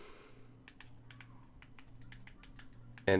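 Quick, light clicks of typing on the small QWERTY keyboard of an air mouse remote, a steady run of close taps with no talking, ending in a louder knock.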